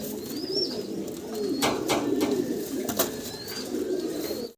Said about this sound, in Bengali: বিশাল সাইজের এক জোড়া হাউস পিজন কবুতর আপনারা দেখতেছেন